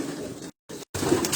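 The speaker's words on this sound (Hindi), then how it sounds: "ये सारे उस्ताद अब्दुल बासित के वो पट्टी वाले कबूतर हैं जो मैं आप दिखा रहा हूँ" Ustad Abdul Basit's patti pigeons coo in low, soft throaty murmurs, close by, broken by two brief silent gaps before the cooing resumes.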